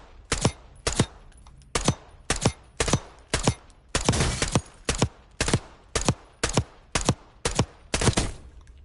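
Sniper rifle shots in the Call of Duty battle royale mode, fired one at a time in a steady, even rhythm of about a dozen sharp, loud cracks, each with a short tail and no talk over them.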